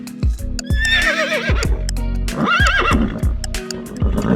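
A horse neighing in two long whinnies while hooves clip-clop in a steady rhythm beneath, close and loud.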